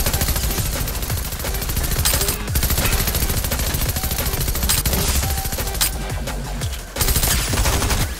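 Sustained gunfire from a Fortnite match, dense rapid shots layered over one another almost continuously, loud and close, with a brief lull near the middle and another before a final burst.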